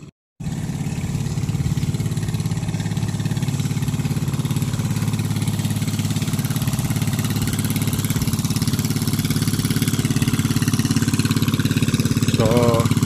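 A small engine-driven water pump drones steadily and loudly throughout at a concrete pond, with a constant low mechanical hum.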